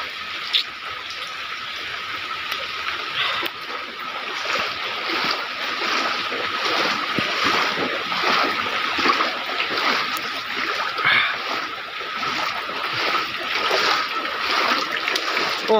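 Floodwater behind a house during Typhoon Enteng rushes and splashes in a loud, continuous wash, close by and alone for the whole stretch.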